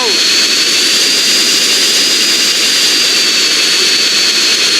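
An aircraft jet engine roars in flight in the GTA San Andreas video game, a loud, constant, unbroken whine and rush with a high tonal hum filling the whole stretch.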